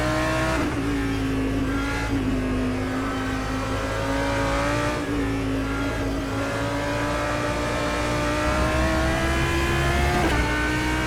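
A GT3 race car in rFactor 2 screams flat out in sixth gear at Mugello, its engine note holding high and climbing slowly, with brief dips at shifts or bumps; loud and continuous, no talk.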